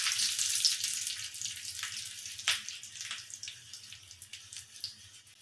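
Curry leaves and dried red chilies frying in hot oil for a tempering for drumstick dal sambar: a steady bright sizzle close by, with a few sharper crackles and spits as the spices hit the oil.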